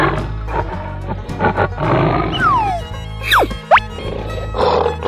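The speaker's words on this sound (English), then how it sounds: "Tiger." A tiger lets out deep, growling roars that rise into sharper snarls, loud and close, over a rumbling low background.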